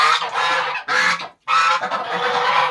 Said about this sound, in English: Here's a video about my geese.